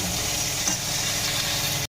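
Cauliflower fries with salt and turmeric in a pan, a dense continuous sizzle for about two seconds before cutting off abruptly, with no talk.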